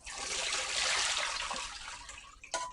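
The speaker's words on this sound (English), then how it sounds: "we're going to add fresh water to this." Fresh water gushes into a pot for beef stew in a steady, loud splashing pour that tapers off, ending with a brief clank near the close.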